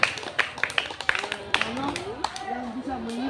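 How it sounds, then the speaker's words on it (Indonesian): Scattered hand clapping for a classmate during a school gymnastics lesson, uneven and brief beats with voices and classroom noise mixed in. "Berikan tepuk tangan dulu kepada teman kita"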